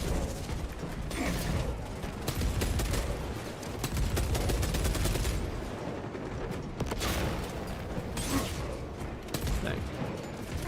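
Heavy Bolter fire in a video game rattles in long dense bursts with mechanical clanking and ratcheting layered over a busy battle din.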